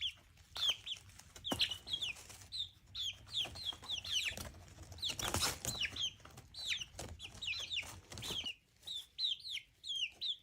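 Young chickens cluck and peep in quick, irregular bursts, several birds close by and fairly quiet, with soft pauses between calls and no talk.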